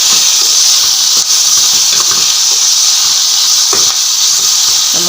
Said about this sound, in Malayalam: ഇതിലേക്ക് നമ്മൾ സവോള, പച്ചമുളക്, ഇഞ്ചി, വെളുത്തുള്ളി എന്നൊക്കെ ഇതൊന്ന് വഴറ്റിയെടുക്കാം